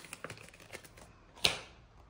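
Small paper cash envelopes are handled up close: a few soft papery taps and rustles followed by one sharper crinkle or snap, quiet and brief, with no talking.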